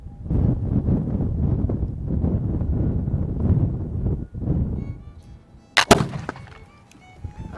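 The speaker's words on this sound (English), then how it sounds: "That wind is blowing me around." Wind gusts buffet the microphone at an outdoor shooting range with a 1766 Charleville smooth-bore musket, loud rumbling bursts that ease off, followed by a sharp crack and a few clanks.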